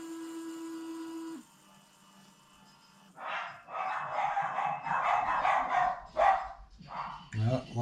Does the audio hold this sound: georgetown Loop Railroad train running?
no